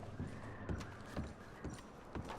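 A horse in Red Dead Redemption 2 clip-clops along in an even series of hoof strikes, about five close thuds, with a faint neigh blended into the game's background ambience and no talk.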